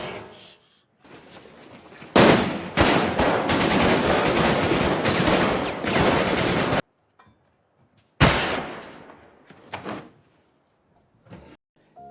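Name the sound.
gunfire from Nazi soldiers in film The Pianist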